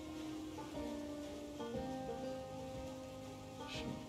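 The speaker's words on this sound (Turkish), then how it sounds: "Sürekli yağmur yağıyor." Steady patter of rain falling at a campsite, with a faint tonal hum and a few soft knocks underneath; no voices.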